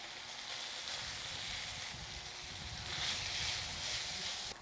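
Thin wheels of sliced snake gourd with turmeric and salt sizzling in hot oil, a steady hissing fry with crackle that swells slightly toward the end, no voices over it.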